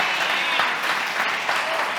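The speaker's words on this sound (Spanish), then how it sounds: "Vamos a darle otro fuerte aplauso a Dios." Church congregation breaking into loud, sustained applause during a sermon, many hands clapping densely together at an even level with no voices heard.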